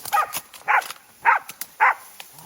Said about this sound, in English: the dogs were getting louder and louder and louder